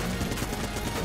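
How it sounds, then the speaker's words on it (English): Rapid, dense gunfire from the video game Enter the Gungeon, a continuous fast-paced volley of shots filling the moment, loud and without talk. "a little bit of faster-paced gunfire in there."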